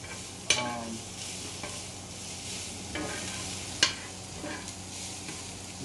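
Thinly sliced large onion fries in a pan, a soft steady sizzle broken by a few sharp scrapes and clanks of stirring.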